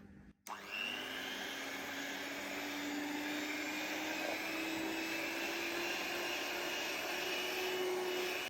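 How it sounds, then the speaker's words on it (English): An electric hand mixer fitted with dough beaters whirs steadily through thick soap mixture. It starts with a click, then runs as a continuous loud motor drone with a slowly rising pitch, and no voices are heard. "I'm going to switch to a mixer, and I've got little dough beaters on the end for this one."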